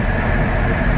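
Steady, loud rumble of a train carriage rolling toward Ukraine and Lviv, heard from inside the compartment, with continuous low wheel and engine noise and no voices.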